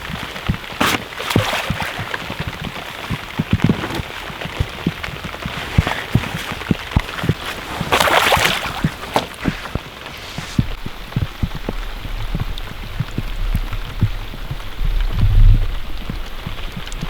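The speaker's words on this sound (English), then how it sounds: "We're caught in the thunderstorm." Heavy rain during a thunderstorm beside a lake, pattering densely and steadily on surfaces close by, with a stronger gust of downpour midway and low rumble building toward the end.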